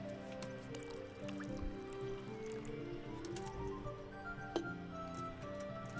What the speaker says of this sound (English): we'll grab our water jug and fill up the cauldron